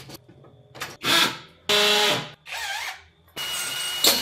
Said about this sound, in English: Holes drilled and wall anchors set, look at these.